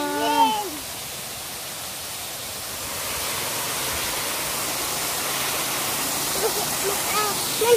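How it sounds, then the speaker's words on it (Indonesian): Steady rushing roar of a waterfall at a family resort, broad and continuous, with birds chirping faintly at the start and near the end. "Air terjun, Dek."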